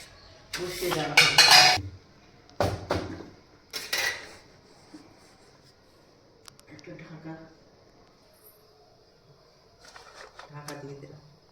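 A metal pot is set down on a gas stove over a bed of heated sand for baking a marble cake, giving a few clanking, scraping knocks in separate bursts, close by, with a voice talking between them.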